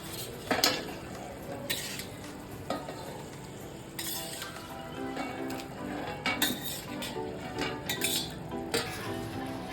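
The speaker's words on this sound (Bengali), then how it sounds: "আমি এখন চিকেনগুলোকে দিয়ে দিচ্ছি" Chicken pieces going into a pot of boiling curry, with a low bubbling, sizzly bed broken by several sharp clatters and clinks of a spoon and pot, close by and without speech.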